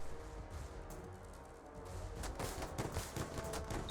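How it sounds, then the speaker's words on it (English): Rapid Gatling cannon fire from airships in the strategy game Airships: Conquer the Skies, a dense rattling burst that swells louder in the second half over a busy battle backdrop. "So we'll just sit here, spraying Gatling fire at them for a little while."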